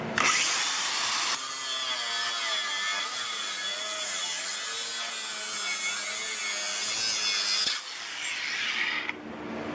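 A cordless 6-inch angle grinder slicing through a steel leaf spring, a loud close shrieking whine with grinding rasp held for about six seconds, then easing as the blade frees and the motor spins down; no talking.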